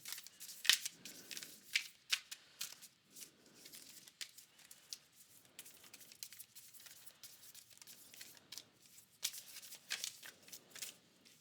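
Tarot cards shuffled by hand at a reading table in soft, papery riffling bursts that repeat every second or two, close and fairly quiet, with occasional sharper snaps as cards are drawn.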